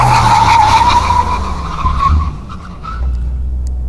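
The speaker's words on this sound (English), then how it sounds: "And now full brake." A Mercedes G-Class under full braking, tires skidding with a loud, sustained squeal that fades out over a few seconds as the car stops.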